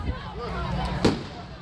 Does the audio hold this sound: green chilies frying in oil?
no